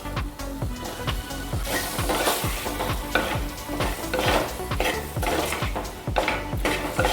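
Rambutan is sautéed in a pan for a curry, with rapid, rhythmic scraping and clattering of a utensil against the pan over a continuous sizzle, close and fairly loud, with no talk.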